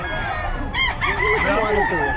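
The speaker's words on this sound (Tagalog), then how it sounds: "Ang daming manok." A rooster crows loudly amid clucking chickens, with several birds calling close by in a busy flock at a pet market in Bocaue.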